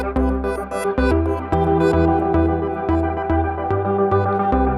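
Elektron Digitakt samples run through a Hologram Microcosm effect pedal produce a dense, sustained layered texture with pulsing bass notes and shimmering repeated upper tones, steady and loud throughout.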